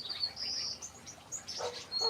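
Small birds chirp in a garden, a few thin high tweets and short calls repeating faintly against quiet background.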